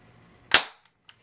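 Mossy Oak Series 1900 spring airsoft pistol fires a single close, sharp crack with a brief decaying tail, followed by two faint small ticks, with no talking.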